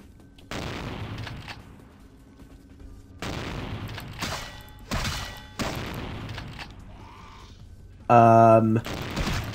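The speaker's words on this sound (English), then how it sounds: "you're shooting through the wall at me" Gunfire in the video game Vampire: The Masquerade – Bloodlines, with enemies shooting through a wall: several sharp bursts and shots in separate volleys, plus a brief tonal game sound near the end, with a person talking over it.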